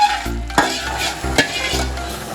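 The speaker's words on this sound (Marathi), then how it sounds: "हे जे आपलं कॅरीमेल झाले ते यात टाकून घेऊया" Hot caramel poured into rice pudding and stirred, giving close bursts of sizzling with scraping, stirring strokes at a loose, uneven rhythm.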